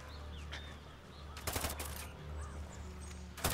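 Gunfire in Ghost Recon Wildlands, a short burst of loud close shots rising out of quiet outdoor ambience with birdsong, followed by another sharp shot at the end.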